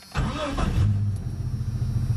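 A car engine with a massive exhaust leak catches and settles into a loud, rough, rumbling idle with a raspy, sputtering edge close by.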